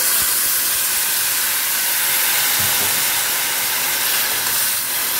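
Water poured onto curry in a hot pan sets off a loud, continuous sizzle and steamy hiss that stays nearly constant throughout, close and without voices.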